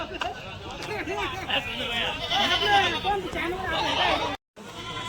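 Many goats bleat at once in a busy crowd at the Chalisgaon goat market, with overlapping wavering cries and background chatter from people nearby.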